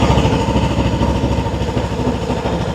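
A 2025 Voge DS525X adventure motorcycle engine idles nearby, a loud, even, throbbing rumble that stays steady throughout.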